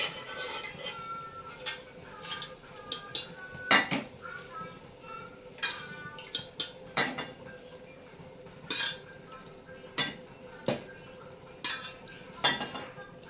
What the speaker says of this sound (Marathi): आता आपण हे शिजवलेले हिरव्या मुगामध्ये टाकूया.